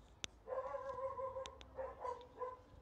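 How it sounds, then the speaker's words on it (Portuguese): A dog barks and whimpers nearby in a home as strangers arrive, a sharp single yip followed by a drawn-out howling whine and a few more short barks. "Desculpa pelo cachorro aí atrás"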